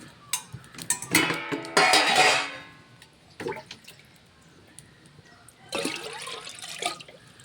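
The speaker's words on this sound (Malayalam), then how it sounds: "പഴയതുപോലെ ഒരു മൺകലത്തിലാണ് ഞാൻ വെള്ളം വെച്ചിട്ടുള്ളത്." Water poured into a clay pot while preparing a rice porridge, splashing and gurgling in two bursts with quieter handling sounds between, fairly close.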